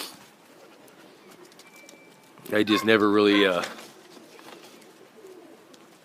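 A racing pigeon in a loft gives one close, loud, resonant coo lasting about a second, with someone talking quietly before and after it.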